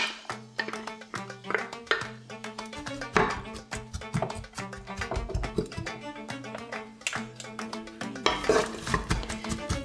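Onions go into a pot with oil for a Tunisian lamb couscous and are stirred, with loud repeated utensil scrapes and clinks against the pot and a faint sizzle underneath.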